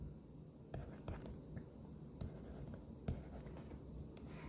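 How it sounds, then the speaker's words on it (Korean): A pen scratches across paper as polynomial coefficients are written out by hand, quiet close strokes with a few sharper taps, faint and intimate with soft breathy background. "일단은 개수들을 한번 쭉 써볼게요."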